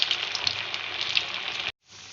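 Poha cutlets frying in oil over a medium gas flame: a close, crackling sizzle with scattered pops that runs steadily, cuts out abruptly, then resumes more softly, with no one talking.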